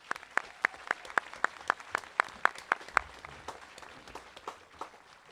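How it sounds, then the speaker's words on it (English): Audience applause at a high school graduation ceremony, a steady patter of many hands clapping with a few louder, distinct claps near the front, gradually thinning out toward the end. "Let's give them a round of applause,"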